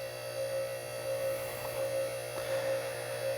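A Bendpak QuickJack 5000TL car lift hums steadily while raising a car, a constant electric drone with a couple of faint clicks partway through and no voices.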